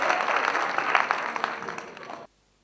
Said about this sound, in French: sous vos applaudissements, s'il vous plaît, on va les saluer.